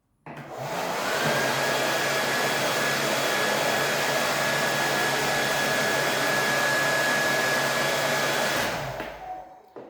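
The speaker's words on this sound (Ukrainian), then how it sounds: "підключивши ще більш потужнішого споживача фен" A hair dryer roars steadily for nearly ten seconds, loud and close, with a constant high whine, starting and stopping abruptly.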